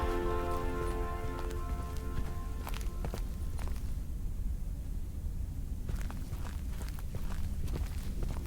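Steady rain falls in the video game Lake, a dense continuous hiss with occasional soft drops and taps on top.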